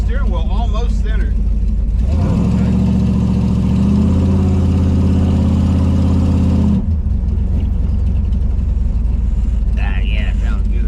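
A rebuilt 1968 Dodge Charger R/T engine idles and is revved on its first drive, rising to a loud, sustained rumbling roar that holds for several seconds before dropping back, with a voice talking nearby before and after.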